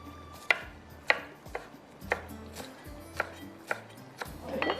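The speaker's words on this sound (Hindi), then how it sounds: "हरा धनिया है, इसको मैंने ब्लेंडर में नहीं डाला, इसको मैं थोड़ा सा बारीक चॉप करके डालूंगी" Fresh coriander being finely chopped with a knife on a board for an Afghani chicken gravy: a steady series of sharp, close knife taps at an even pace, with no voices.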